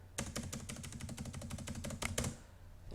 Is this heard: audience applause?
no